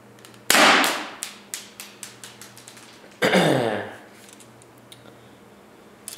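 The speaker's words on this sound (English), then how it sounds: "cock it back, and we'll just shoot this box real quick." Smith & Wesson M&P 40 airsoft pistol fired at a box: a loud cocking clack, then a string of sharp snapping pops with plastic rattles, followed by another cocking slide sound in a quiet room.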